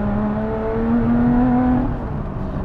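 A Lotus Exige Sport 380 engine revving with a rising, droning exhaust note, loud and close, holding steady before easing off.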